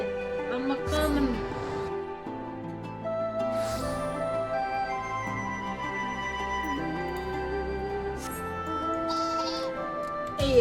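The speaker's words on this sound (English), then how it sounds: "Hey, I got a sheep." Sheep bleating in the Final Fantasy 14 Endwalker video game, a few bleats rising over a steady game music bed, with a person talking over it.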